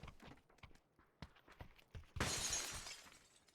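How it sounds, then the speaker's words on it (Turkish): Glass window breaking in the PUBG battle royale game, a sudden bright shatter with tinkling debris after a run of soft footsteps, moderately loud. "Cam kırıldı"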